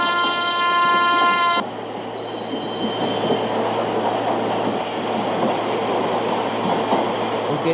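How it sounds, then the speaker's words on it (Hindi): A WAP-7 locomotive on the Mumbai to Vadodara run sounds one loud, sustained horn blast, followed by the steady rumble and rattle of the moving train. "तो हमने हॉर्न दिया है"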